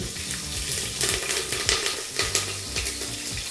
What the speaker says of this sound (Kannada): ನಂತರ ಈಗ ಹಸಿಮೆಣಸಿನಕಾಯಿನ ಕುಕ್ಕರ್ಗೆ ಸೇರಿಸ್ಕೊಳ್ತಾ ಇದ್ದೀವಿ.